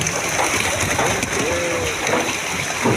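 Live fish are released into a large freshwater lake, and water splashes and sloshes steadily at close range. Voices can be heard in the background.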